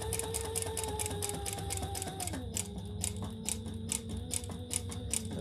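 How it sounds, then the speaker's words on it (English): A sewing machine stitches around a piece of fabric at a 4 mm stitch length, with a rapid, even ticking chatter and a motor hum that shifts pitch as the speed eases. "I'm just sewing all the way around this. I'm using a 4 millimeter stitch length."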